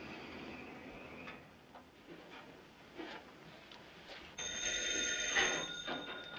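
In a 1941 film scene, a telephone bell rings in a loud, sustained burst in the second half, after several quieter knocks and shuffling sounds.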